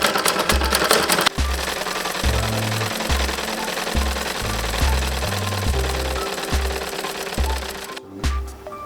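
A sewing machine stitches old cloth into a pillow in short, loud mechanical bursts of rapid chattering, separated by brief pauses, with no voices.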